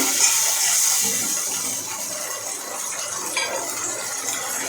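Water from rinsing a spice bowl, holding ground ginger, cumin, coriander, chilli and turmeric paste, poured into a pot of thin shing fish curry, a continuous close splashing gush that eases slightly after the first second.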